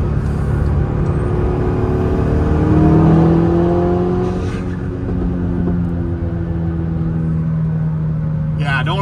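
Big-turbo stage 2 Volkswagen Golf R running about 19 PSI accelerates hard, its engine rumble climbing in pitch to a peak, then easing off with turbo whir, heard from inside the car with someone talking over it.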